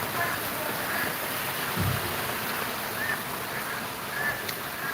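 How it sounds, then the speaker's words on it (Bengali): Heavy rain falls outside after pouring all night, a constant broad wash of hiss heard steadily from indoors with no clear individual drops, fairly loud and unbroken. "বাইরে প্রচণ্ড বৃষ্টি সারা রাত বৃষ্টি হয়েছে এখনও বৃষ্টি চলছে"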